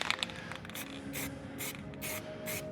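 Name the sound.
spray painting rusty brake drums black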